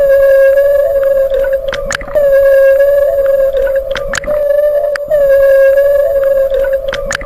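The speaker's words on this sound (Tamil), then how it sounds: "இந்த திமிங்கலத்துடைய ஹண்டிங் சவுண்டு தான் இப்போ நீங்க கேட்டுக்கிற இந்த சவுண்ட்." Humpback whale hunting calls recorded underwater: a loud, sustained tonal moan with rich harmonics runs throughout, broken by short sharp upward sweeps and clicks that repeat in a steady cycle.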